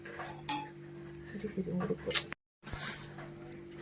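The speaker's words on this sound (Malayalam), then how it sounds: "നാരങ്ങ പിഴിഞ്ഞൊഴിച്ചതിന് ശേഷം നമ്മൾ ഐസ് ഇടണം" Ice cubes drop into a mojito glass after fresh lime juice, giving a few bright clinks and knocks close by, under a person talking.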